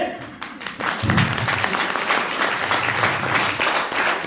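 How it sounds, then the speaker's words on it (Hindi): An audience at an open seminar claps together, a steady wash of applause with some murmuring voices low underneath, continuing evenly to the end. "अगर ऐसी ताली बजाना नहीं चाहते हो तो यहां बजाइए"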